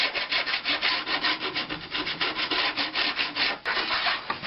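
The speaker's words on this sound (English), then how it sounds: "Now I'm gonna get rid of the burrs on it" Metal burrs being filed off a bridge part for a homemade guitar, steady rapid rasping strokes in a fast rhythm, close and loud with no talk.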